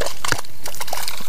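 A small caught fish released back into the water, with brief splashing and sloshing bursts near the shore, close and fairly loud, in a short outdoor scene.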